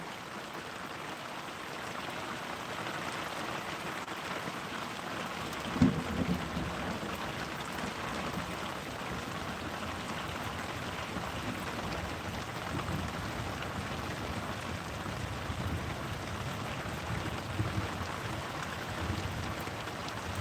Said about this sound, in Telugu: ఇక్కడైతే వర్షం వస్తుంది